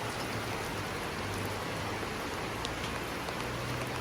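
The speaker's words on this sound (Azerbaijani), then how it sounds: "görün necə yağış yağır." Heavy rain pouring down in a courtyard, a dense steady hiss of drops hitting hard surfaces, close and continuous, with no talking.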